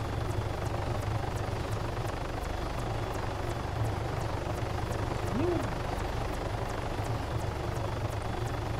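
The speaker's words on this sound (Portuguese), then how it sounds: "Quem é que tá de helicóptero ali?" A helicopter in the video game ARMA 3 drones steadily with a constant rotor hum and a regular faint ticking beat, holding near and loud throughout.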